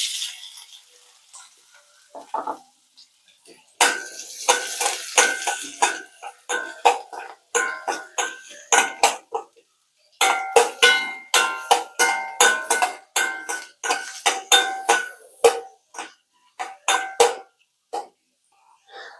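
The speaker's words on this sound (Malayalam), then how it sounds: "അതേ എണ്ണയിലേക്ക് ഞാനൊരു ചെറിയ സവാള ചെറുതായിട്ട് അരിഞ്ഞതാണ്" Finely chopped small onion fries in hot oil in a pan, crackling in sharp intermittent bursts with quiet gaps between, as if stirred now and then.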